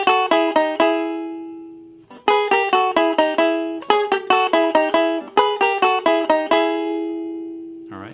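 Banjo picking double stops, bright plucked notes in quick rhythmic bursts of chords with short pauses between phrases, close and solo with no voice.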